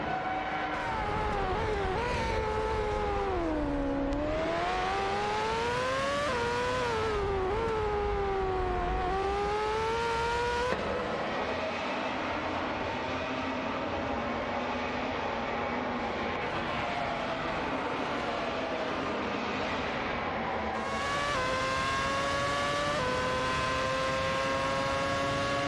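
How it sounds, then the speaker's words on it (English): Computer-controlled race cars in a racing video game scream past, engine notes rising and falling as they shift and speed away, several passes blending in a loud continuous drone with no voices. "Racing car dashing away."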